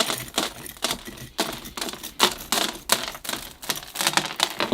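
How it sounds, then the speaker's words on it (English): A small rake scratches and combs through the roots of a silk floss bonsai tree, making a dense run of quick, dry scraping clicks close by with no talk. "I'll begin to rake out the roots"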